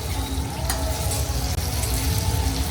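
Potatoes and sama rice fry in oil for a Maharashtrian fasting meal, with a continuous close sizzle and crackle and occasional stirring scrapes throughout.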